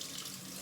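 Cold water running steadily from a bathroom tap into a sink, a continuous hiss close by with no talking.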